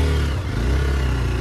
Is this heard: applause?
no